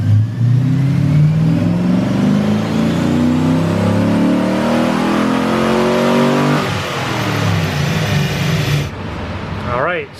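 A V8-swapped Honda S2000 running on conventional oil revs hard on a dyno, a loud sustained engine roar climbing in pitch for most of the run before easing off and winding down near the end.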